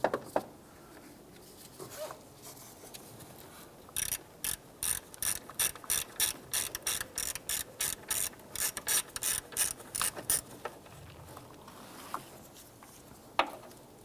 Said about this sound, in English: I'm going to use our ratchet and our socket, loosen and remove this here.